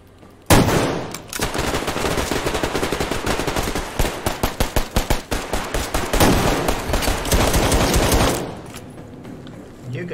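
Rapid bursts of automatic gunfire in the online shooter Survarium, loud and close, rattling almost continuously for several seconds with a stretch of sharp separate shots before fading out.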